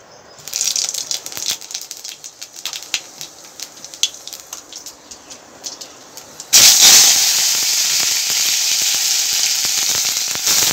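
Panch phoron and tomato hitting hot mustard oil in a home kitchen while cooking a fish curry: scattered crackles and pops at first, then a sudden loud, continuous sizzle that stays strong to the end.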